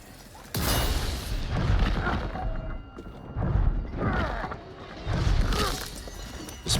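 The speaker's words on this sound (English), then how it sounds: "Let's go for a flashbang here." A flashbang grenade goes off in a Resident Evil 4 Mercenaries match, a loud booming blast followed by further heavy thuds and crashes of combat over several seconds.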